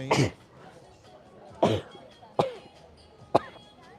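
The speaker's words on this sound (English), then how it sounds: "I'm going to sneeze, so I've got to cover my mouth." Four sharp, explosive sneezes, spaced irregularly over a few seconds, against a faint murmur of background chatter, outdoors on an evening sunset walk in Tenerife.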